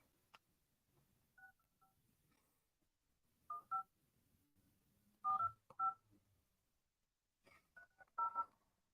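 Telephone keypad dialing tones sound as a call is placed, arriving as several short clusters of beeps separated by pauses, fairly faint against a quiet background.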